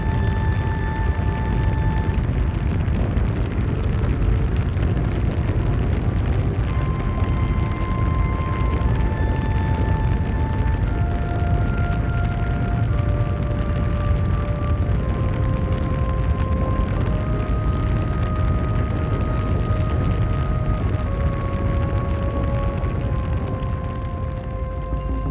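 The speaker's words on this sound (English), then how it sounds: "In the thick fluid, several large rocks are being pushed downstream by the tremendous impact." A thick mudslide debris flow in northern Pakistan churns downstream carrying large rocks, producing a loud, continuous low rumble and roar with steady broadband noise and no distinct breaks.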